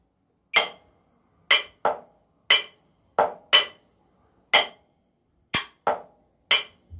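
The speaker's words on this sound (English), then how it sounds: "I'll play the quarter notes here on the side of the practice pad" Drumsticks tap sharp, dry, isolated strokes on a practice pad, about ten hits spaced unevenly in a layered polyrhythm, close and clear with silence between.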